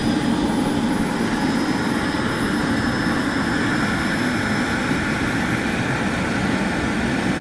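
Turbine engine of an MD600N RC model helicopter spooling up, a loud steady high-pitched whine with broadband roar holding constant and close throughout, with no voices.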